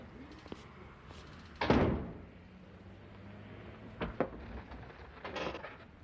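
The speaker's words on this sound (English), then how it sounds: "Close the door on your way out." A door closing in an office in a TV drama, heard as one firm thud with a short rattle, followed a few seconds later by fainter knocks and shuffling, with quiet room noise between.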